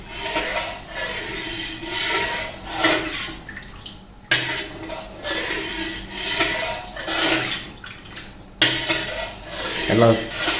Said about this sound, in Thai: ให้น้ำเดือด แล้วก็คนให้เข้ากัน